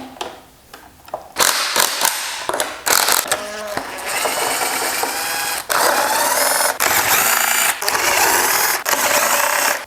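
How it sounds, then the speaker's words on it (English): Ratchet loosening intake manifold nuts on a BMW M52B30 stroker race engine, bursts of loud rapid clicking separated by short pauses, close by and clear. "let's take this intake manifold off. Gonna bump all the nuts."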